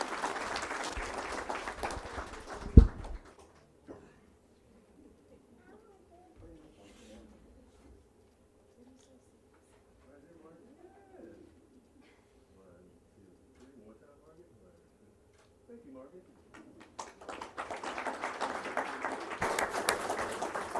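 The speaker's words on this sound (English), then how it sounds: "Give a round of applause to Margaret Dennison." Audience applause at a school board meeting, a burst of clapping at the start that dies out, then a long quiet stretch before a second swell of clapping near the end.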